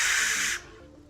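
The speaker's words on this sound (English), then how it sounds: "Just steam coming out the side of the car." In the Surviving Mars video game, steam hisses out of the side of a car as a loud, steady burst that cuts off abruptly and leaves a faint low hum.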